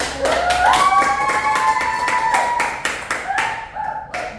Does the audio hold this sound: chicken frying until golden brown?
no